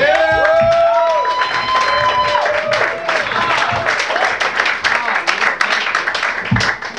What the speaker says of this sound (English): People applaud very loudly for Rob Lindo